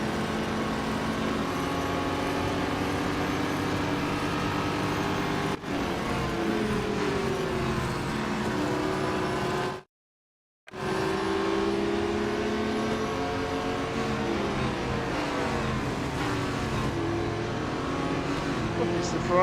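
Race cars roar past in Real Racing 3, a Ferrari among them, engines droning loud and steady with rising and falling pitch as they sweep by, briefly cutting to silence midway, with a voice talking over the game.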